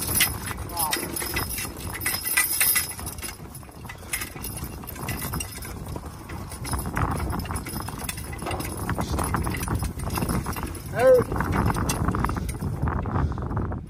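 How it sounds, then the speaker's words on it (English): A Percheron-Belgian draft cross horse trots, its hooves beating a steady clip-clop rhythm at moderate distance, with a faint metallic jingle of harness. "Go ahead and ask him to trot, Henry."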